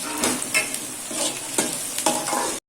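Black pepper and green chillies fry in a pan for loki chana dal while a spoon stirs them, a close sizzling hiss broken by several scraping strokes before stopping abruptly into silence.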